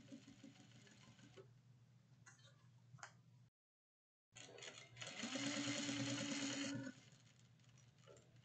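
A sewing machine back stitching a bag runs in short bursts, with a tick-tock stutter at first, a pause of silence, then a longer, louder steady run before easing off.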